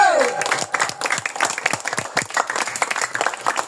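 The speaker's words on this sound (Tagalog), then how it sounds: "isa pong palakpak para kay Mr. J" An audience at a religious gathering breaks into applause for Mr. J: dense, steady clapping from many hands, fairly loud and close, with voices heard over it at the start.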